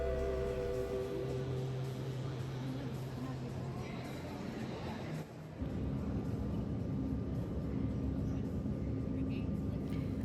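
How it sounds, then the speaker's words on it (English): Cabin noise inside an airplane in flight, a steady loud engine and air roar with low tonal hum that shifts character midway, continuous throughout. "I'm in an airplane going to Switzerland"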